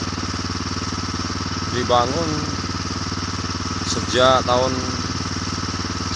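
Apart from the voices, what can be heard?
borewell water pump engine running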